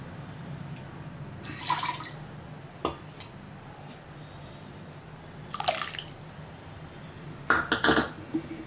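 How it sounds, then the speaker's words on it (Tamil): Tamarind water is poured into a pot of cabbage sambar in a home kitchen, giving a few short liquid splashes and trickles with faint clinks of utensils against a quiet background. "புளி தண்ணியும் வந்து நம்ம ஊற்றிடலாம்."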